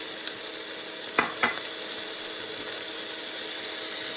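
Halved cherry tomatoes tossed into a hot pan for puttanesca bruschetta topping, a constant close sizzle with a couple of brief clanks and pops from the pan, and no talking.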